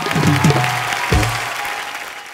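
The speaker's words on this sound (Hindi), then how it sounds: "भाई के लिए जोरदार ताली होनी चाहिए" Studio audience at a comedy show clapping, a short, fairly loud wash of applause with a few low vocal sounds and musical hits mixed in.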